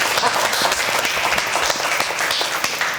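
An audience applauds at a TV comedy show, a steady patter of many hands clapping at moderate loudness for a few seconds.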